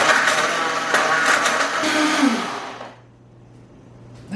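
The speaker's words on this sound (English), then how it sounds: "It's all in the blender, all ready to go. So let's give it a whirl." Blender whirring loudly and steadily as it mixes a peanut butter milkshake, then its motor winding down and cutting off, leaving a quiet room.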